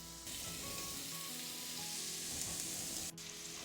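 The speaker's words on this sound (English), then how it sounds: "So put your pork loins in the hot pan and brown them on each side 3 to 4 minutes." Pork loins brown in a large pan of hot oil, giving a steady, continuous close sizzle and crackle with no voices.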